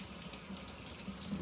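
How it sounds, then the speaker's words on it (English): Warm water runs from a kitchen tap over frozen fish being thawed for jerky, a steady close hiss and splash that continues without pause and without speech. "We give it some warm water, just to break up the ice a little bit."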